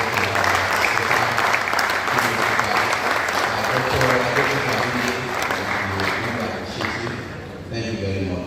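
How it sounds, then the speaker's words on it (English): Audience at a public lecture in a university civil engineering department claps loudly and continuously for several seconds, a dense, close wash of hands that thins briefly near the end. "Let's give it a round of applause."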